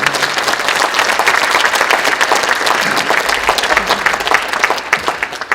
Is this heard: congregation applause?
yes